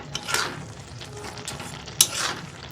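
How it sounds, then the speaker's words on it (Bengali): Carrot halwa with sugar just added is stirred in a pan, making a soft continuous frying hiss with scraping strokes and two sharper metallic scrapes. It sounds close and there is no speech. "চিনিটা দিয়েও নাড়িয়ে নেব"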